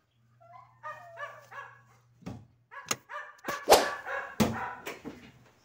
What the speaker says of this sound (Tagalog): Tumatahol pa yung aso mo.